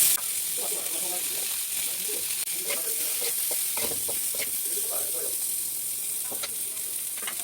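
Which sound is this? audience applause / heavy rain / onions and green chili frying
onions and green chili frying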